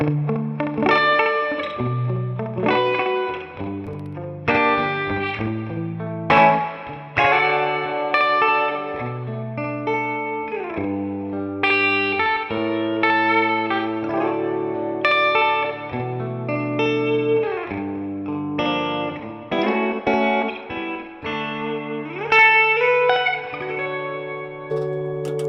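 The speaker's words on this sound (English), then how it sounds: "Now let's hear the bridge pickup, which is gonna have that classic 50s sound." Electric guitar, a Gibson 1955 Les Paul, played through a bright, twangy bridge pickup, mixing strummed chords and single-note lines with a touch of reverb, steady and alone.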